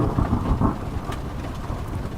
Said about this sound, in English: It's just like downpouring outside right now.